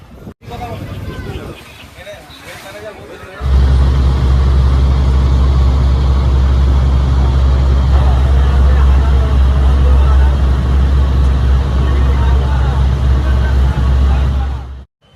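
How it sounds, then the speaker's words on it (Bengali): A ferry launch crossing the river toward Kalna, its engine starting up to a loud, steady low drone that stays on close by, with people talking and milling around while others board. "লঞ্চ চলে এসেছে, লঞ্চে উঠে পড়ি।"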